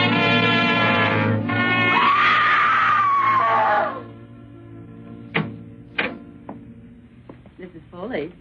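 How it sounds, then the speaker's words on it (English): A woman's long, loud scream rings out in an old radio suspense drama, then gives way to a few sharp knocks or thuds and quieter sounds. "you mustn't scream like that"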